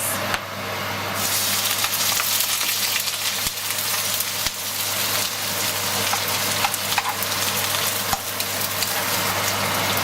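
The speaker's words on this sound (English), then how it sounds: "first what I'm gonna saute are the onions." Onions sautéing in a pan for a stewed barracuda dish, giving a steady, loud sizzle and crackle that runs the whole time, with occasional sharp stirring clicks and a low hum from a cooker hood underneath.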